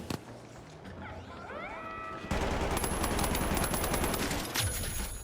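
An AK rifle fires in a sustained automatic burst in a zombie-infested video game. The shots are dense and loud and follow a short stretch of quieter game sounds.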